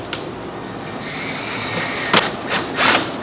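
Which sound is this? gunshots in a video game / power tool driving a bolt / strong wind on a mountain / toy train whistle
power tool driving a bolt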